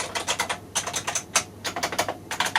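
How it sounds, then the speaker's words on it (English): Clicky keys on a lightweight plastic keyboard, somewhat like a cheap Model M, typed in quick bursts of sharp clacks with short pauses between, close and fairly loud, with no voices. "It's only a plastic keyboard."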